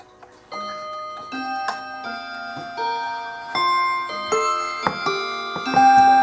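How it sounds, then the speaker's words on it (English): A wall clock ticking steadily in a quiet room, with resonant chime-like tones ringing out between the close, clear ticks. "That's the wall clock."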